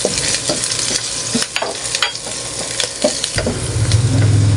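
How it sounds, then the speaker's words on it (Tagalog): Garlic frying in hot oil sizzles steadily in a pan, with scraping stirs throughout and the sizzle swelling louder near the end. "lagyan na po natin yung ating bawang. Dahil mainit na po yung ating mantika"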